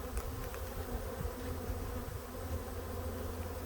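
Honey bees droning in a dense, continuous buzz during an open hive inspection late in the season, steady and close with no pauses.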